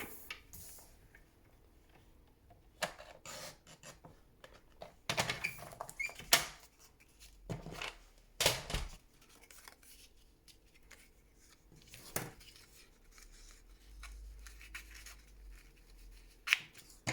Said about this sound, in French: je vais le faire en massicot